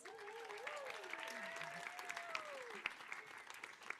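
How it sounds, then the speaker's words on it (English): A panel audience at a social skate summit applauds the host, faint and somewhat distant, with a steady patter of claps and a tonal voice-like line running over it. "Can we please give her a round of applause?"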